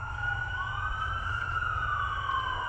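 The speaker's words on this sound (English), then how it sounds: "we got the ambulance coming" An ambulance siren wailing steadily in a continuous rising and falling tone, fairly distant, over a low rumbling drone.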